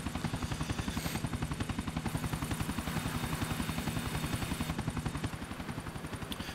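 Helicopter in Grand Theft Auto 4 flying steadily, its rotor producing a loud, continuous rapid chopping pulse throughout, with no voices present.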